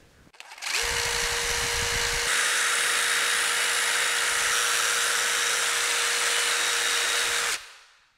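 A steady, loud whirring of a power tool runs unbroken for about seven seconds while a Honda Civic suspension bushing bore is cleaned up with abrasive sandpaper or Scotch-Brite, starting and stopping abruptly.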